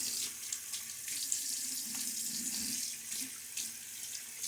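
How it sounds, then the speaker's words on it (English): A tap runs steadily for a shaving soap lather, a soft continuous splashing stream of faucet water into a sink, close by, with no voices. "A little water now."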